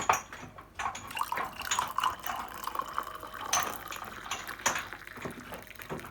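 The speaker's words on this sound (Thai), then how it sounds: "แล้วก็เติมน้ำร้อนลงไปค่ะ" Hot water is poured into a glass to make ginger tea, in a steady, splashy stream, with light clinks of glassware, close and clear with no talking.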